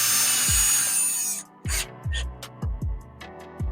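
A power drill whirs loudly for over a second while removing backstage speaker fittings, then stops; several short bursts and clunks of tool handling follow.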